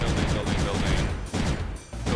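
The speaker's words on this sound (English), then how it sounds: "this little wall of cannons here will be able to push the enemy back" Cannons firing in the strategy game Creeper World 3, a rapid dense volley of booming shots rolling together into a continuous fusillade, loud and close, with a brief dip before the barrage resumes.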